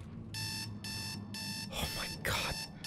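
An electronic alarm clock in the video game Dead Space 2 rings in repeated bursts of beeping, heard over a low game ambience with brief noisy rustles near the end.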